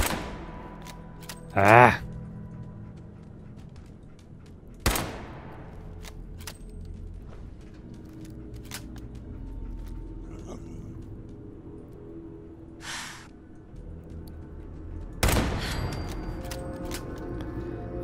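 Turret gunfire in Fallout 4 during an attack on Corvega, heard as a few sharp separate bursts spread across the stretch, loud and close, with quieter game ambience and a brief vocal exclamation in between.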